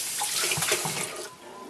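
Tap water running into a sink while a single-bevel chef knife is rinsed after sharpening, a steady close splashing flow that eases off near the end.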